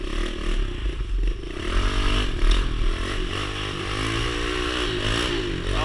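A pit bike ridden in a wheelie slalom through a middle school lot, its small engine buzzing and revving up and down with light clatter, close and steady throughout.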